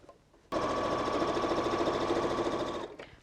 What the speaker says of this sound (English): So I'm going to sew down all 4 sides.